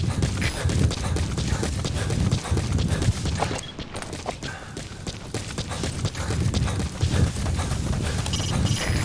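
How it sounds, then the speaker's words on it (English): Horse hooves in the video game Metal Gear Solid V: The Phantom Pain, a loud rhythmic clip-clop of galloping through open wilderness, mixed with other game sounds and a short lull partway through. "Use your horse."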